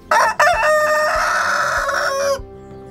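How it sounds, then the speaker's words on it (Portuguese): A young rooster crows once, close and loud, its call starting with a few rough notes and then holding a long, slightly strained cry. "E os frangos já estão cantando"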